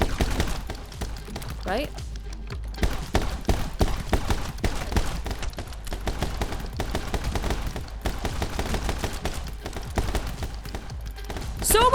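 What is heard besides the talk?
gunfire in the video game My Friend Pedro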